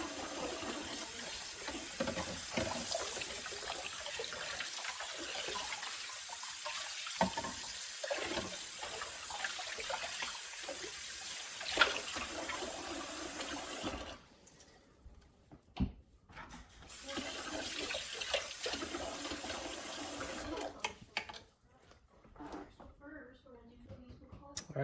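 Tap water runs into a sink as the parts of a Tribest Slowstar juicer are rinsed, a steady rushing stream broken by a short pause and occasional clunks of plastic pieces being handled.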